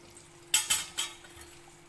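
A whole kilanga fish slipped into a pot of simmering Tamil fish curry, giving three quick soft splashing clinks close by, then quiet.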